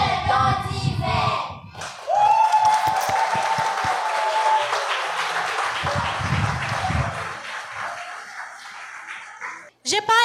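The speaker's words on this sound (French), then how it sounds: "J'ai pas aimé l'applaudissement." Children at a summer camp clap together in a sustained burst of crowd applause, with voices and talk mixed in around it.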